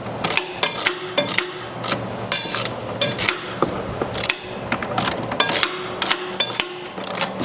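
Ratchet wrench clicking in quick repeated bursts as it works a 9/16 nut on the idler pulley of a Cub Cadet mower deck, close up and crisp, with no talking.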